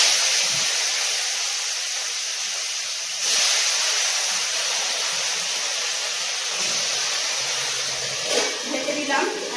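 Fish heads frying in hot oil in a covered pan give a steady, close, broadband sizzling hiss that holds throughout, with small surges and a few brief crackles.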